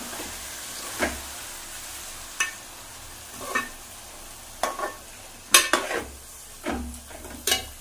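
Pulao ingredients with a cup of yogurt being sautéed in a pan, a steady low sizzle broken by several sharp scraping stirs and spoon knocks spread across the stretch, with no talking.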